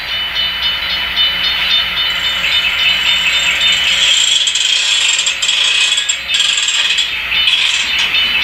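Someone sets the handbrake on a Conrail hopper railcar, producing a loud, continuous ratcheting clatter of pawl and gears at close range for several seconds without pause.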